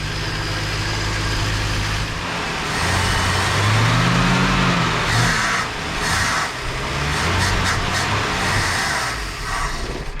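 A Plymouth Duster's engine runs loudly in a garage, a deep uneven idle that swells into a rough rev around the middle before settling and surging again, straining as though close to stalling.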